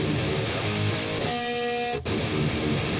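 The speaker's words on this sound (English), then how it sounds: "Really powerful guitar tracks." Two quad-tracked distorted guitar parts from a song mix play together as a dense, steady wall of sound, briefly dipping near the end, with no talking.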